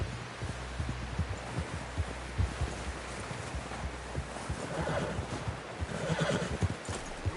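A horse whinnies in the Red Dead Redemption 2 video game, set against steady hoof clip-clops and a thudding low rumble, with a louder neigh swelling near the end and no talk over it.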